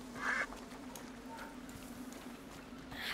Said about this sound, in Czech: Kačer.